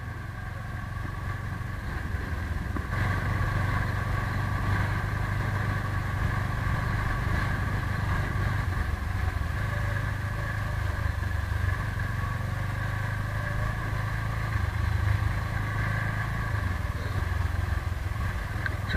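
A motorcycle rides along a village road in rural Odisha, its engine a steady mid-pitched drone that stays close and even for the whole stretch, with no voices over it.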